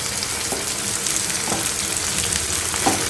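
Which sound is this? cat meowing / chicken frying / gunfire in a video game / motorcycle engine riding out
chicken frying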